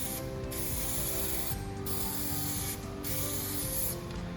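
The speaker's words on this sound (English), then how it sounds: "my other surface I'm going to spray in the opposite direction" An aerosol can sprays Würth contact adhesive in three long, steady hissing bursts separated by short pauses, loud and close over a rough mechanical rumble.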